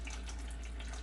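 Water streams steadily into a blender jar for making juice, a brief continuous splashing pour heard close and alone.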